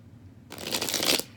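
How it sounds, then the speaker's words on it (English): Close, quick riffle of tarot cards being shuffled, a single brisk burst of papery flapping that stops abruptly. "I want to make sure that I've shuffled well enough."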